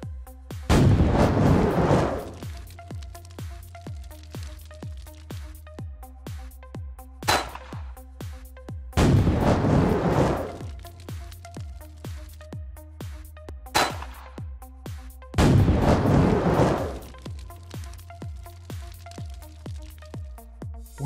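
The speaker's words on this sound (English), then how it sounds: "Explosive shot." Explosive shot power firing in the Ship of Heroes superhero game: three loud, heavy booming blasts a few seconds apart, each followed by a short rumble, with sharp smaller cracks and a steady rhythmic clicking in between.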